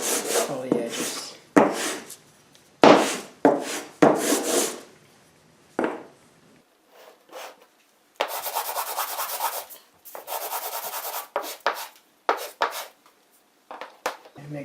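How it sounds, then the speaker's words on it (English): Sandpaper is rubbed by hand along the edges of wooden segments for a segmented platter, removing burrs and fuzz in short scratchy strokes that come in bursts separated by pauses, close and moderately loud. "I will sand off the burr and the fuzzies off the edge, just lightly on"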